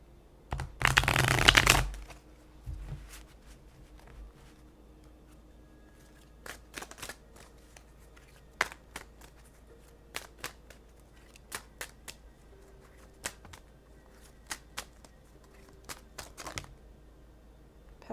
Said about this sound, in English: This deck is the Divine Feather Messenger. This is a deck of oracle cards.